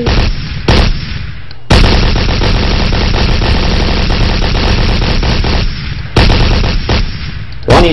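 Loud, close gunfire from a mounted gun in the video game Brickforce: long sustained bursts of rapid automatic fire broken by short pauses and a few separate heavy shots.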